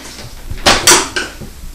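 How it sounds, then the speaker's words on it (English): A spoon knocks and scrapes against the crock of a slow cooker while stirring thick pear puree with sugar, two or three loud close clanks in quick succession over a quiet background. "I'm going to go ahead and stir this up here."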